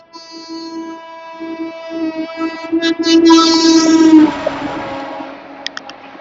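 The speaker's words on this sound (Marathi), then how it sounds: "हाय स्पीडने निघून गेली गाडी" An express train rushes past at high speed near Delhi, its horn sounding in several sustained blasts before the rumbling, clattering roar of the passing carriages swells loudly and then fades away.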